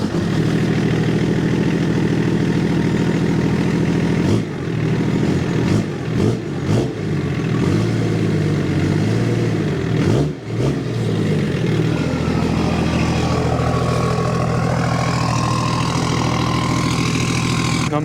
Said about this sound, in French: Regarde le bruit du turbo là, c'est incroyable.